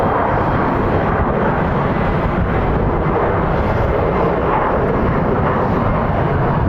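Alaska Airlines airliner at Phoenix Sky Harbor airport, a loud, steady broadband jet roar filling the whole stretch with no talk.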